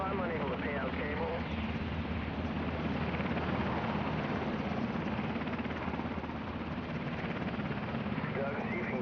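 A rescue helicopter hovers over water during a hoist operation, its rotor and engine roar loud, close and unbroken, with voices heard faintly under the noise.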